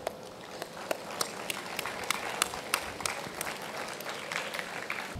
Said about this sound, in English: Can we have them on the stage, please, for a round of applause?